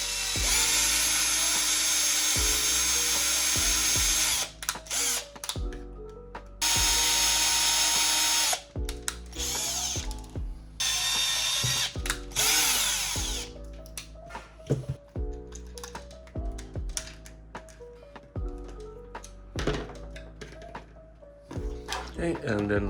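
A power drill whirs in short, repeated bursts while backing screws out of pegs in a GPStar Neutrona wand barrel. The close, high-pitched spinning starts and stops often, with a person talking between and over the runs.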